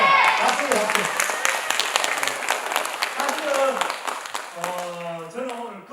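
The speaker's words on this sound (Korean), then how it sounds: "박수 주세요." Audience applause at an environmental talk show in Gyeongju, steady clapping from a seated crowd throughout, with a presenter's voice and a few calls heard over it.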